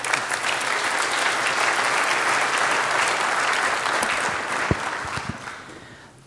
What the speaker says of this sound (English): Let's give our presenters a small hand of applause